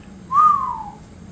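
A single low whistle from a narrator, a smooth falling note lasting under a second, close and clear, performed as a voice imitation.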